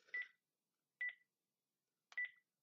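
Three short electronic beeps from a mobile phone acting up, evenly spaced about a second apart, clear and close with silence between them.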